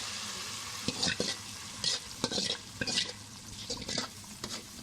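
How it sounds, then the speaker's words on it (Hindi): Hot fried onion tempering poured over thick daleem sizzles steadily, while a spoon stirs and scrapes the pot in several short bursts over the continuous frying hiss. "प्याज का तड़का डाल दिया है"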